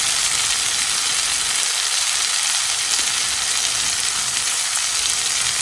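Green pepper going into a pan of frying tomatoes and curry powder, giving a steady, loud broadband sizzle throughout with no talk.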